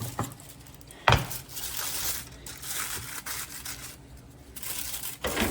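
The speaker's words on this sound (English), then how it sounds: "now we're just gonna transfer it over to a baking pan" Buttered cheesy garlic bread shifted into a foil-lined baking pan, giving a steady crinkle and rustle of foil with one sharp crackling knock, close by and moderately loud, no voices.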